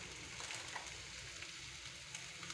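Cumin seeds sizzle in a hot frying pan, a steady, even hiss with faint crackles running throughout, fairly close and alone with no voices.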